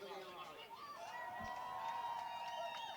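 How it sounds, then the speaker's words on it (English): Spectators at a high school boys soccer match between Stillwater and White Bear Lake cheer and shout from a distance, a steady murmuring crowd roar with some higher yells, while a commentator talks over it. "The crowd cheering."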